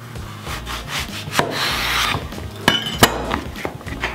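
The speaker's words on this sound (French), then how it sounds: "on laisse le pédoncule et on coupe en tranches de 1 à 2 cm d'épaisseur" A knife cuts an aubergine into 1 to 2 cm thick slices on a board, with close, brief scraping strokes and a few sharp taps as each slice comes through.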